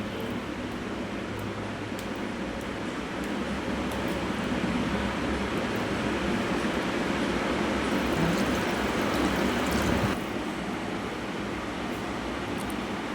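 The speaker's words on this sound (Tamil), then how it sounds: "தண்ணி ஊற்றியாச்சு." Water poured into a pot while cooking beef nonbu kanji, a Ramadan rice porridge, makes a steady close rushing hiss for about ten seconds before easing off.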